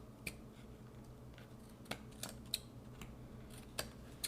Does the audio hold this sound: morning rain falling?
no